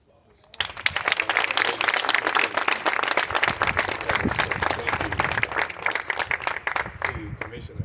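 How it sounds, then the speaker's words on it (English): Applause breaks out for a Richland District 1 superintendent, starting abruptly after a quiet moment, with loud, close clapping that continues and tapers slightly toward the end. "I think we all should give a round of applause."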